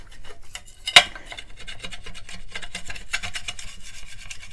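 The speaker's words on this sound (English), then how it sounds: "it has like a little sharp edge on it, and it scrapes off the glue" A sharp-edged spatula scrapes glue off a craft surface after alcohol has loosened it, making close, repeated rasping strokes in an uneven rhythm, with one sharper knock near the start.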